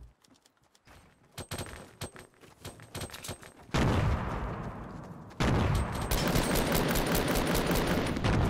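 Gunfire in an online battle video game, with rapid bursts of shots that build into loud, sustained automatic fire, no talking.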